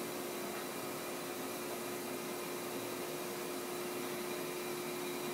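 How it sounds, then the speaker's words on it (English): Fish meal flowing through a released gate valve in a TransFlow conveying test, a steady, continuous rushing hiss with a constant machine hum underneath, close and unbroken throughout. "we can release the gate valve. Material is going to release rather quickly."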